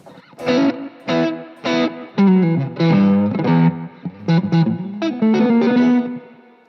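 Electric guitar played through a slapback delay combined with reverb, giving a short double repeat and added depth; a series of distinct notes and chords ring out loud and alone, each with a brief echoing tail.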